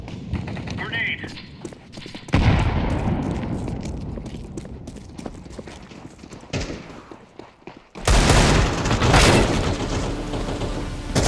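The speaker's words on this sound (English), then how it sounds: "Grenade." A grenade explodes in the video game Counter-Strike 2, a sudden loud blast that breaks in late and keeps rumbling, following earlier bursts of gunfire and voices talking over the game.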